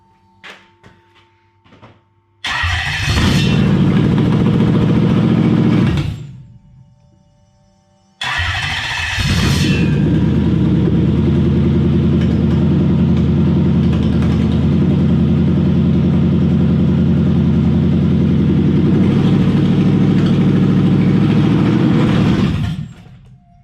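A Toyota 1UZ V8 running an old Link ECU cranks and catches, runs briefly and cuts out, then starts again into a loud, steady, rumbling idle heard up close.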